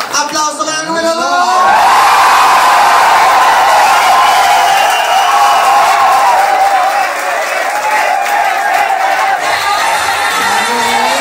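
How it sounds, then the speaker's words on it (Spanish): A lively crowd at a party game show bursts into loud applause, cheers and whoops after a voice at the start, then keeps up a sustained roar of clapping and shouting before it fades near the end. "¡Aplauso para el número dos!"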